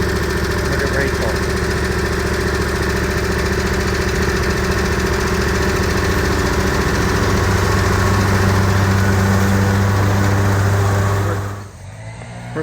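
Lawn mower engine running steadily while mowing a hill, a loud close droning hum with a shifting pitch that cuts off abruptly near the end, with a voice faintly under it.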